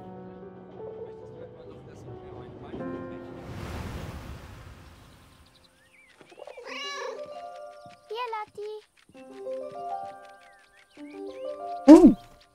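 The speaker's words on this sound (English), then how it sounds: "The German and his cat." A cat meowing in the video game 11-11 Memories Retold, belonging to a German soldier, heard as several short, clear meows spread through the latter half, after a stretch of game music and a soft rushing noise.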